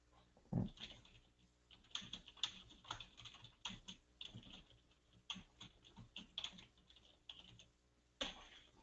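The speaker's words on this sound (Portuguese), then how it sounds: "Começar a traduzir, começar a digitar." Steady typing on a computer keyboard while entering a translation, a close, busy patter of key clicks with irregular rhythm and a few sharper taps, with no speech.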